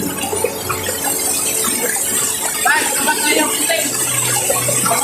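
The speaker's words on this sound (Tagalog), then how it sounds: "Pang ingay yung agos ng tubig eh." Flowing water of a mountain stream rushes steadily close by while people talk over it and a few brief rattles and knocks surface.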